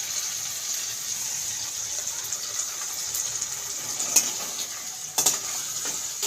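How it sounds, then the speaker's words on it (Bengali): Tomato and potato pieces frying in a pan with ginger, cumin and chili pastes, a continuous close sizzle broken by a few sharp spatula scrapes and knocks near the end. "এটাকে আমি খানিকক্ষণ ভালো করে ভাজা করে নেবো।"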